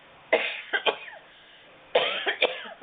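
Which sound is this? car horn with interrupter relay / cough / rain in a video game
cough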